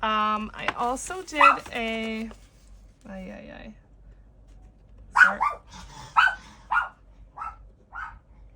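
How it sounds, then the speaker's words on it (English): Household dog barking in a string of sharp, close barks and yips, loud bursts spaced about half a second to a second apart, following a stretch of a person speaking. "Sorry about the dog."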